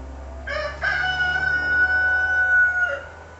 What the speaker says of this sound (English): That'd be the rooster.